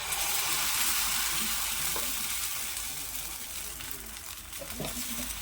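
Dosa batter sizzles steadily on a hot griddle greased with oil or ghee as it is spread for a fasting-day sponge dosa, a loud continuous hiss with faint clinks of the utensil.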